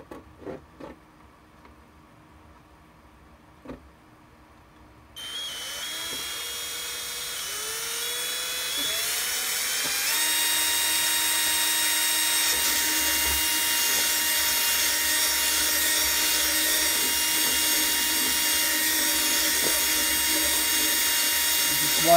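A small power drill whining steadily as it bores into plastic Shadow Trooper armor, starting after a few quiet taps and rising in pitch and loudness as it cuts, close up.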